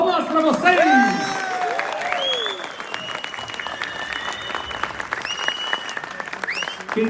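A crowd at SemanÁudio 2023, a Brazilian audio immersion event, bursts into loud applause with whoops and shouted cheers, a continuous wash of clapping under rising and falling voices.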